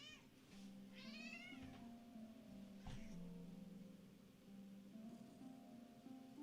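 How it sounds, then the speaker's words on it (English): A house cat meows a couple of times near the start, drawn-out wavering cries, with another faint call later, over quiet steady game music and a low hum. "He's meowing for I don't know why."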